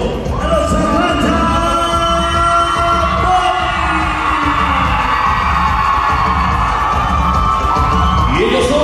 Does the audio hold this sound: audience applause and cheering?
yes